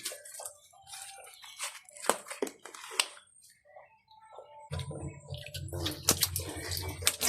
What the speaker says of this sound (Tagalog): Lagyan ko na sila ng tubig.